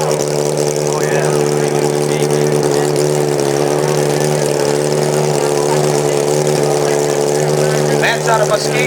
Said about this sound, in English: Got a custom-built Kawasaki.